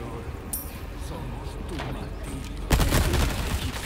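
Video game gunfire in Resident Evil 4 sounds as sharp shots and then a heavy, sustained burst of rapid fire. Players keep talking over the combat.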